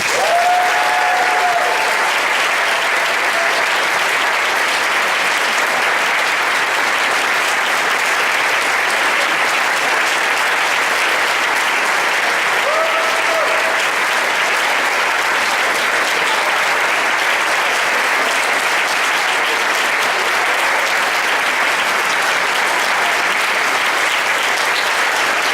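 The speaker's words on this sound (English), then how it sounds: "Please help me recognize them with applause" A long, steady, loud round of applause fills the hall at a school band awards ceremony as musicianship awards are presented, with no break in the clapping.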